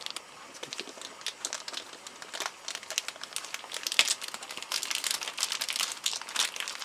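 A Ziploc bag holding green polyhedral dice from a Call of Cthulhu RPG starter set crinkles and rustles continuously up close, growing busier and louder toward the end.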